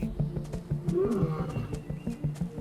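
A big cat roaring, a series of deep rhythmic grunting roars pulsing roughly every quarter second, close and loud, with a louder throaty peak in the middle, no talk over it.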